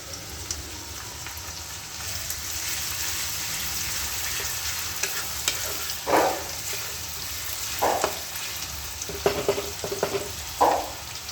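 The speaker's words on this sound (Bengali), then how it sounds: "এরপরে আমি চপড অনিয়নগুলো দিয়ে দেবো।" Chopped onions frying in a pan for street-style fried rice give a continuous soft sizzle, with several sharper scraping stirs toward the end, close and steady.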